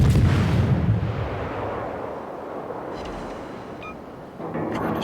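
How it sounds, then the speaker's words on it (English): Naval gunfire in the World of Warships video game: a loud, close booming salvo at the start that rolls off into a long rumbling decay, with a second blast building near the end. "trying to shoot the ships"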